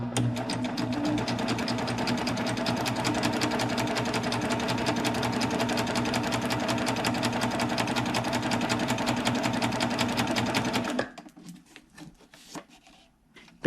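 A chain and cover stitch sewing machine runs continuously at a steady fast rhythm for about eleven seconds, loud and close, then stops, leaving faint handling clicks.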